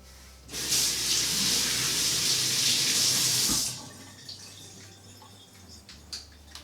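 A fermentation crock lid is rinsed under a running tap: a loud, close gush of water starts abruptly, pours steadily for about three seconds, then cuts off, followed by a few light clinks and drips.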